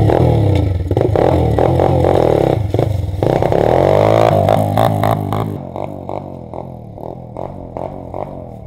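A Chinese-made dirt bike revving loudly nearby, with repeated throttle blips and rising engine pitch, then choppier, lighter bursts as the engine settles toward idle.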